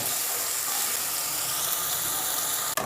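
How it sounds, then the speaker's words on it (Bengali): A spice paste with chilli, turmeric and salt sautés on low heat for a soybean curry, making a dense, even hiss and sizzle that holds steady up close, then cuts off with a brief knock near the end. "লঙ্কা, হলুদ, নুন দিয়ে দেবো, দিয়ে মশলাটাকে কিছুক্ষণ ধিমে আছে কষাবো"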